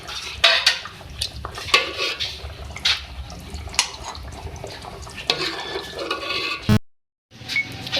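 Beef Balochi aloo gosht is served from a pot with metal utensils. A run of close clinks and scrapes is followed by a short silence, then more clatter.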